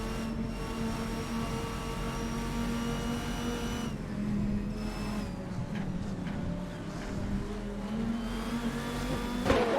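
GT race cars in a video game lapping the Misano circuit, a steady high engine drone with shifting pitch as cars accelerate and pass, joined by faint tire squeals, continuous throughout with no voices.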